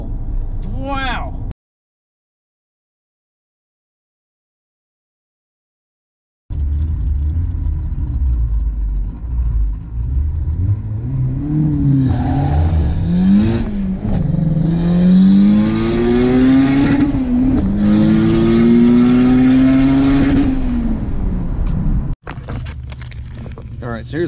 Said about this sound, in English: I'm just hitting the limiter on third, and that's pretty much 90 to 91 miles an hour